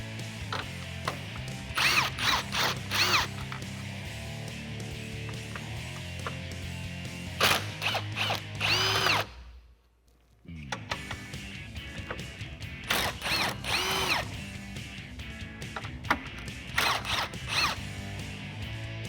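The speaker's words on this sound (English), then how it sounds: "grab a 10mm socket, and what we're going to do is remove the 4 10mm bolts holding on the top of our grill" Ratchet wrench with a 10mm socket removing the upper grille bolts on a 2013-2018 RAM 1500 truck, loud close bursts of rapid ratcheting clicks separated by pauses, with a brief quiet gap midway.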